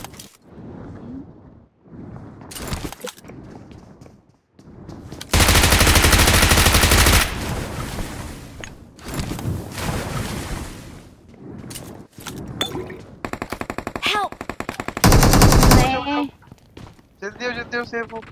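Gunfire bursts in the mobile battle royale game BGMI, with rapid machine-gun volleys and loud single shots coming in clusters, mixed with spoken game commentary.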